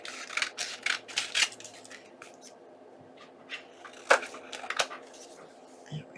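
Scissors snipping paper while trimming junk journal ephemera: a quick run of short crisp cuts, then a pause and a few more isolated snips, close and moderately quiet.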